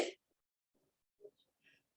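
A single sharp sneeze bursts out at the start of a quiet indoor yoga class, followed by faint soft murmurs and brief speech.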